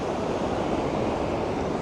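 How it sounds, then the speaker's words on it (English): Ocean waves roll onto a shore along a seascape, a steady, full wash of surf with wind, continuous and fairly loud with no voices. "I hope you can hear the ocean coming in. Love the sound of the waves."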